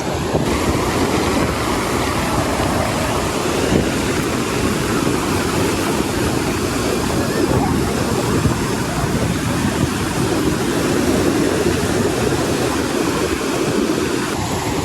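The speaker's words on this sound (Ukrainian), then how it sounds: "Море бушує, як бачите." Stormy Black Sea surf pounds the beach at Arkadia in Odesa, a continuous loud roar of breaking waves with strong wind buffeting the microphone, no voices, steady for the whole stretch.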